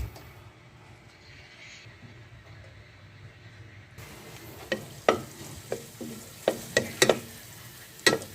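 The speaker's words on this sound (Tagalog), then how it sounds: "Ngayon po ay magigisa na tayo." Garlic sautéing in a pan for ginisang labanos with sardines: a quiet stretch, then a soft sizzle with sharp scraping and clinking from stirring, close and moderately loud.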